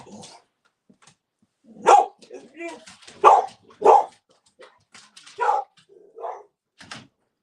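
A few scattered dog barks and yips come from nearby, spaced out with quiet gaps between them.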